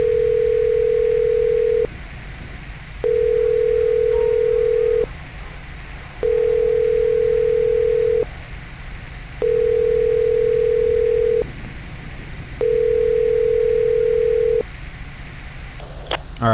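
A cell phone ringback tone in GTA 5 repeats in steady, evenly spaced beeps, five long tones separated by short pauses over a low background hum, ending with a brief click.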